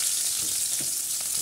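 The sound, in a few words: oil sizzling in pan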